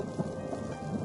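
Rain and thunder fill an audio drama scene: a faint, steady wash of rainfall with low rumbling thunder underneath, continuous and without voices.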